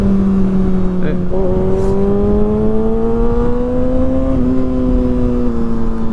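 Kawasaki ZX6R with an M4 GP19 exhaust holds a steady, loud engine drone while riding, the pitch rising slowly as it pulls, with a faint voice underneath.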